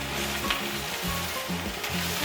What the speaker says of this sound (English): you can see that the kale is starting to cook down, and I'm stirring it